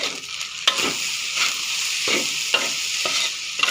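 Rice with salted fish is stir-fried in a pan, with repeated scraping strokes of a spatula every second or so over a continuous close, bright sizzle.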